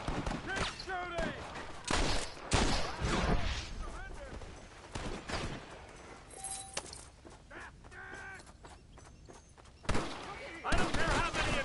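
Gunfire in the Red Dead Redemption video game: scattered shots and bursty volleys crack out in clusters, with game voices talking in between.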